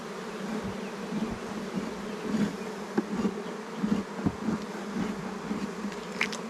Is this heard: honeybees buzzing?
yes